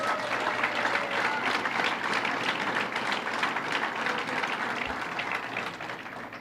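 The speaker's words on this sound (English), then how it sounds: "Let's give them a round of applause." A crowd at the New York State Fair gives a sustained round of applause for a record-breaking family, steady dense clapping that fills the whole stretch and tapers slightly at the end.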